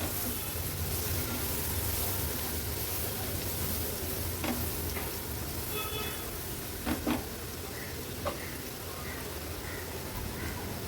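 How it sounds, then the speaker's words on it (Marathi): Turmeric and home-made Agri Koli masala sauté in hot oil for a fish dish, giving a steady, moderate sizzling hiss that runs throughout with a few faint clinks and stirring scrapes. "हळद आणि मसाला तेलावर छान असा परतून घ्यायचा आहे।"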